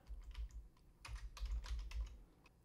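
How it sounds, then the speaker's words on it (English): Keys clatter on a computer keyboard in a short burst of typing, with irregular close-up taps and small pauses and no voices over it. "Click on Search and type Command."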